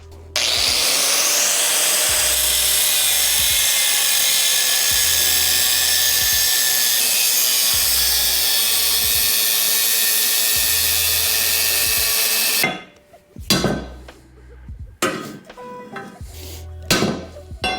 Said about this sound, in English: I gotta do a little more angle grinding on the sides